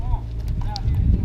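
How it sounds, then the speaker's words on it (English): Hooves of a stubborn 20-year-old horse clop on the ground outdoors, a few uneven thuds under people talking nearby. "they've been dealing with this horse for the past couple of hours"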